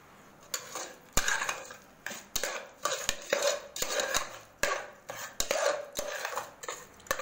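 A spoon scrapes and knocks against a bowl as powdered sugar is stirred into mango for a Tamil mango pachadi, giving close, steady metallic clinks in an even rhythm with no voices.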